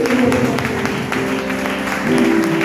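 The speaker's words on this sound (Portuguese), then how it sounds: "As palmas para o Senhor Jesus." A church congregation claps for Jesus during a Portuguese-language service, a loud blur of hands under sustained music or singing tones that continue through the moment.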